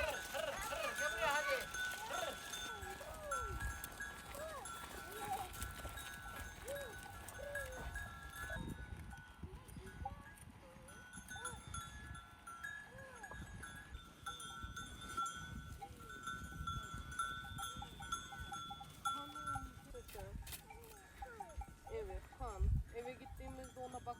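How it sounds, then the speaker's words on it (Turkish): Sheep bleat repeatedly on a livestock farm, several calls at varying distances overlapping through the stretch, with people talking intermittently and occasional rustling and clinking in between. "koyunlar da geliyor ama"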